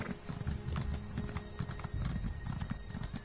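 A horse in Elder Scrolls Online gallops with quick, rhythmic clip-clop hoofbeats, close and steady for a few seconds, with a faint whinny mixed in.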